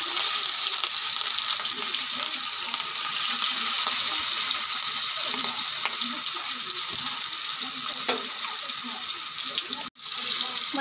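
Pieces of a large 2.5 kg rui fish fry in hot oil in a wok, giving a loud, continuous hiss of sizzling that runs unbroken until a brief cut near the end.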